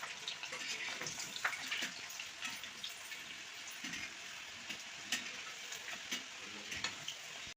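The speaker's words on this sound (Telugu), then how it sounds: "ఆయిల్ బాగా హీట్ ఎక్కింది. ఇప్పుడు గవ్వలు తీసి కొన్నిగా వేసుకున్నాం." Gavvalu, small shell-shaped dough pieces, frying in well-heated oil: a steady, moderately loud crackling sizzle with scattered pops throughout, with no talking.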